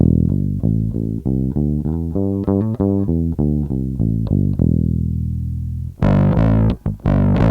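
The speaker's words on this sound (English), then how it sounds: "Here's my clean tone." A bass guitar played with a clean, undistorted tone picks out a sequence of deep notes, then a brighter run of quicker plucks.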